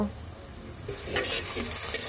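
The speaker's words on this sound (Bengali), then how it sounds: "তেলটা গরম হওয়ার পর দিয়ে দিলাম পেঁয়াজ কুচি। পেঁয়াজটাকে একটু হালকা ভেজে নেব" Chopped onions frying in hot oil make a close, steady sizzle with soft stirring scrapes and a brief louder crackle midway, and no talk.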